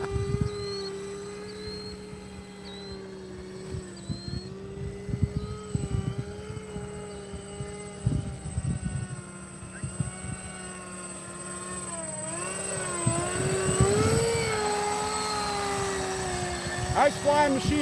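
Blitz RC Works V-22 Osprey RC model tiltrotor in flight, a steady whining drone with shifting pitch that swells and fades, while people chat over it.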